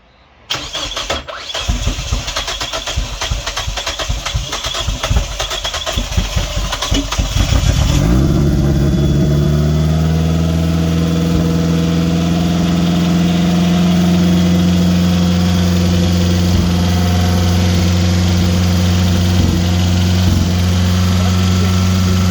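A Mitsubishi Lancer with a 4G93 turbo engine cranks with rapid starter clatter for several seconds, then catches and settles into a loud, steady, rough idle close by.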